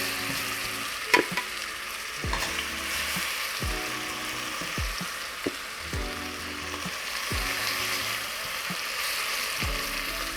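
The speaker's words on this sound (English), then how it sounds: "Grab our lamb here, it's nice and seasoned up. Get a good sizzle there." Seasoned lamb sizzles steadily in a hot pan for thiébou yapp, with a few clinks and scrapes of stirring punctuating the constant frying hiss.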